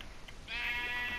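A single sheep in a blocky Minecraft-style video game lets out one short, fairly quiet bleat after a moment of near silence, with no speech.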